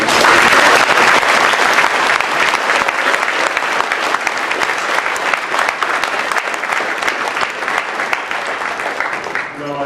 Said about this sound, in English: one big round of applause for all the graduates